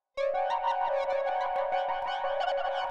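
An Ableton track runs through the A Larger Sky ambient effects rack: a shimmering, sustained tonal swell starts abruptly and holds steady and fairly quiet, with no voices.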